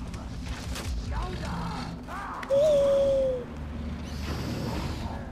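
Single owl hoot call in the video game Far Cry Primal, a brief tonal note that stands out over background game ambience and faint voice.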